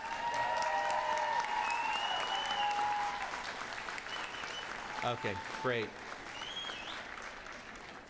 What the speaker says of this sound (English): give your friends and families a big hand of applause